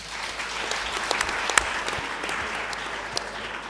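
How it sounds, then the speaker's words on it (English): Attendees at a public hearing on a national health insurance bill applauding, a moderately loud, steady patter of claps from a room-sized crowd. "Clap hands for yourselves."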